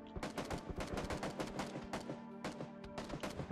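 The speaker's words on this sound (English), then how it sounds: "He's also getting shot at." Rapid bursts of video game gunfire crackle close and loud in a battle royale solo match, shots packed into quick automatic strings with brief gaps between them.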